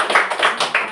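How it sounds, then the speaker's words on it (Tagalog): Members of a neighborhood prayer group clap loudly together in praise, a brief burst of a few rhythmic, fairly close claps. "Malakas na palakpak kay Yahweh El Shaddai"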